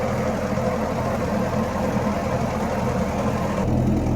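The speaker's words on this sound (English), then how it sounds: "we're back on the tractor." A tractor engine idles steadily and close by, a constant low mechanical rumble with a slight change in tone near the end and no talking.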